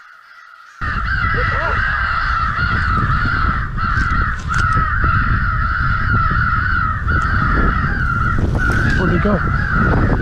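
Crows cawing during a crow hunt with motion decoys in heavy wind, repeated harsh calls under constant loud wind buffeting, while people speak over it.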